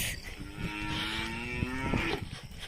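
A cow on a farm lets out one long, low moo that swells and falls over about two seconds, close and clear above faint background noise, with no speech.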